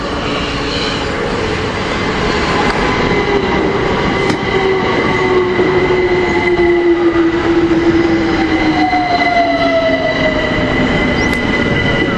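London Overground train arriving at Denmark Hill from Clapham, loud rumbling wheels and motor with a whining tone sliding downward as it slows, steady and close throughout.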